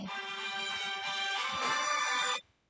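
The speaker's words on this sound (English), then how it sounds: "I'm sorry about that. That was my alarm." A loud electronic alarm tone rings continuously for about two seconds, then cuts off abruptly.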